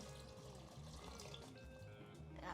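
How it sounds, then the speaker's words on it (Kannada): Water pours steadily into a pot of chicken and egg sambar, a faint continuous splashing and trickling stream with no talk. "ಈಗ ನೀರು ಹಾಕಿದ್ದೀವಿ."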